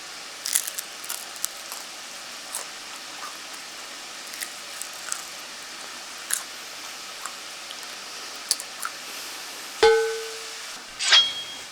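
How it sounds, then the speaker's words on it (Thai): Whole fried chicken cooked in fish sauce being bitten, giving a run of faint, dry, crackly crunches spread across the stretch, with two brief louder squeaky sounds near the end. "กรอบมากโอ้โหอร่อยเลยเดี๋ยวไปฟังที่กล้องใหญ่นะคะ"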